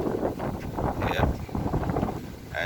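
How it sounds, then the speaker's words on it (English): Gusty wind buffeting the microphone in uneven low rumbling bursts outdoors by a gate opener, with a faint whoosh rising and falling over a couple of seconds. "it's a little windy, not much"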